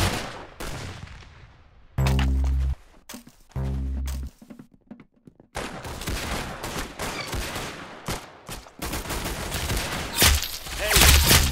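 Gunfire in a Roblox shooting game on PC: rapid bursts of close, loud shots and automatic fire, broken by short pauses and a few heavy thuds and clangs. No voices.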